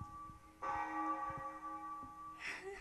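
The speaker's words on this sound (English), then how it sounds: "That's the bell for the break." A break bell rings in the video game Hetaverse, a faint, sustained bell tone with a steady hum and soft low knocks beneath it, swelling midway before a brief brighter burst near the end.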